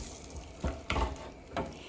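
Fresh tomato soup heating in a pot and being stirred, with three distinct close scraping strokes over a low simmering background.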